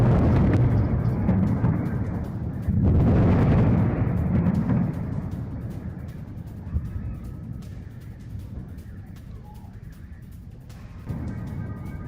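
Deep booming blasts from missile strikes on residential and military sites in Tabriz, Iran, heavy rumbling explosions with rolling low thunder, loudest early then fading into a distant, muffled rumble.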